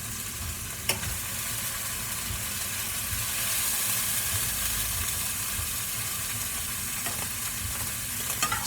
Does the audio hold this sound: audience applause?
no